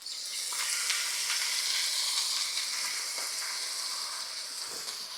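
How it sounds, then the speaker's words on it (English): Soy sauce poured around the edge of a hot frying pan while chicken fried rice cooks sizzles with a loud, dense, continuous crackling hiss that stays steady throughout. "Then I'm gonna take some soy sauce. I'm gonna put it around the edge of the pan."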